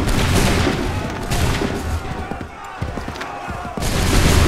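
Musket volleys in an Assassin's Creed 3 battle crackle loud and dense, the ragged rolling gunfire heavy at the start and again at the end, with voices shouting through it.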